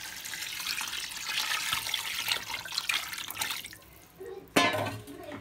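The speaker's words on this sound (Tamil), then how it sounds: "இப்போ தேவையான அளவு தண்ணி ஊற்றிக்கலாம்." Water is poured into a pot of rice for one-pot chicken biryani, making a steady, close splashing and gushing sound that tapers off, followed by a brief clatter.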